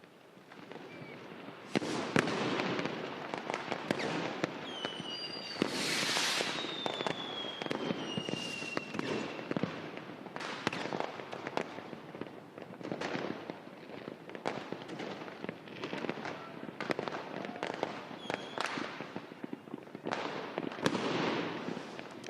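Consumer fireworks going off in a residential neighborhood, a long run of sharp cracks and pops at an irregular pace with a few whistling rockets, heard from a distance and fairly busy throughout.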